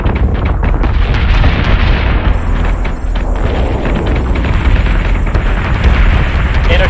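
Ship weapons firing and exploding in a space battle in the Battlestar Galactica Deadlock video game, a dense series of loud booms and bursts layered over one another, continuous and close.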